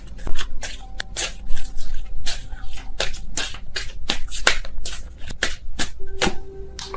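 Tarot cards being shuffled by hand, a steady run of close, crisp riffling flutters and soft slaps of the deck with no talking.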